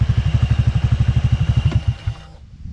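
A Honda Click 125 V3 scooter idles with a close, steady, rapid putter, then sputters and dies when the kill switch cuts the engine, leaving near silence.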